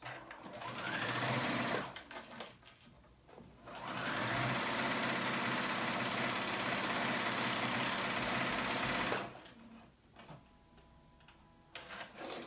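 A sewing machine edge stitches flimsy dress fabric in two bursts, a short whir and then a longer steady stretch of stitching, with quiet pauses between.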